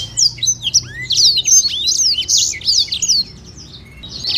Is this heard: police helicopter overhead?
no